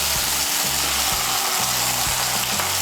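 Ginger, green chili and tomato paste frying in oil in a pan, a loud continuous close sizzle with a steady hissing texture throughout and no voices.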